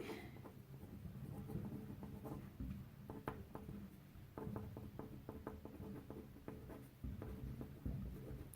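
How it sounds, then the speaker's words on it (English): A pen scratches across paper during handwriting, with soft, close, continuous scratchy strokes and small tapping pauses between words, faint and steady with no talking. "So someone starts writing."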